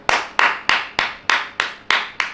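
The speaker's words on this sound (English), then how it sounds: "that applause has just coincided with an absolute legend liking the stream" Hand claps during a football watch-along stream: eight sharp, evenly spaced claps sound close and loud in a steady rhythm.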